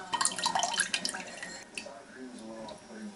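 Coconut water trickles and drips from holes in a coconut into a cup in a kitchen, with a splashy pour at first that settles into a softer, steady dribble, close by, under faint background talk.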